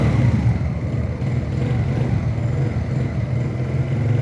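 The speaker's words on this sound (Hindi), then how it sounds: "हम इसके 110 सीसी इंजन को ज़रा फायर अप करते हैं, स्टार्ट करके देखते हैं" Zonsen Super Star Cub 110cc clutchless motorcycle engine idling steadily, a low, even thrumming putter that holds close and constant throughout.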